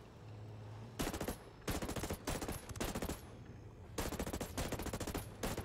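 Bursts of automatic gunfire ring out in the video game Ghost Recon Breakpoint, several rapid loud volleys separated by brief pauses, with a faint low hum between them.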